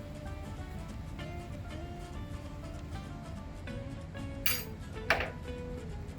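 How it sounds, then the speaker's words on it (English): A spoon stirring vegetables and flour in a pot of hearty vegan stew, quiet background hum with two distinct metallic clinks against the pot near the end. "give that a nice stir to coat all the veggies for another minute with the flour"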